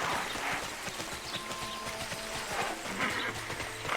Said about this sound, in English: Sometimes mounting a horse takes time.